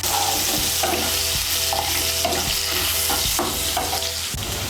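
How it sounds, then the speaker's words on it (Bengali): Potato pieces fry in hot oil with salt and turmeric while a spatula scrapes and turns them at regular intervals, the loud crackling sizzle running continuously under the repeated stirring knocks. "নুন আর হলুদের গুঁড়োটা মিশিয়ে নিয়ে আলুগুলোকে লাল করে ভেজে নেব"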